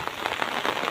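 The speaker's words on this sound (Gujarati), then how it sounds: "વરસાદ અમારે હજી ચાલુ છે" Heavy rain drums steadily on an open umbrella outdoors during a downpour beside flooded fields, a dense, continuous patter with faint brighter drop hits throughout.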